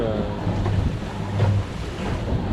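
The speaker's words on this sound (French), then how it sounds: "réveillé par le clapot du vent d'Est." Small choppy sea waves driven by an east wind slap steadily against a sailboat's hull at night, a continuous close wash of water with wind noise on the microphone.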